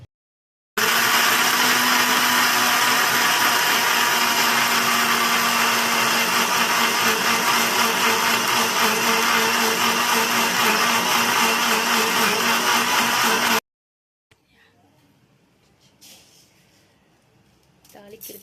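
A kitchen blender grinds coconut chutney to a fine paste, a loud, steady whirring roar that runs unbroken for about thirteen seconds, then cuts off abruptly, leaving faint clatter.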